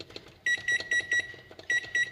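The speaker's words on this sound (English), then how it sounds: "So I'm going to set the timer for 22 minutes here." Oven timer beeping repeatedly while being set, a quick series of short, sharp electronic beeps in uneven bursts, close and clear against a quiet kitchen.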